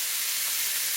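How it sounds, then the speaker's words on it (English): Ribs seared over high heat in a pan give a steady, close hiss and sizzle that holds evenly for the whole short stretch, with no voices over it. "I've got this on high heat, and I'm just going to sear it"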